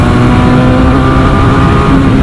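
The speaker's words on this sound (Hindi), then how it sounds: "Can you here the motorcycle?" A loud, close QJ Motor SRK 400 motorcycle engine runs with a deep, steady rumble and a constant tone, with no talking over it.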